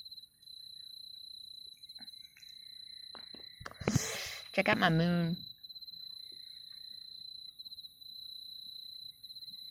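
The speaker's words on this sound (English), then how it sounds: "Can you hear the crickets?" Crickets chirp at night as a steady high, continuous trill through the whole stretch, with a person speaking briefly over it midway.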